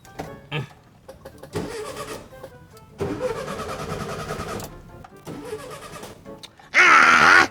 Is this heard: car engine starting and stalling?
yes